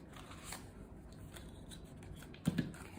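Scissors snip white thread for a pamphlet stitch book binding, a quiet close-up cut with two brief crisp clicks near the end.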